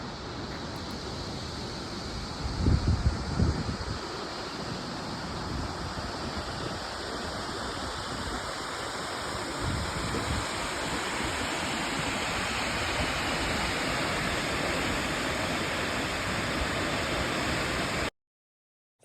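A waterfall near Flåm in Norway pours steadily in a dense, broadband roar, close and constant for the whole stretch, with a few brief low thumps early on before the sound cuts off.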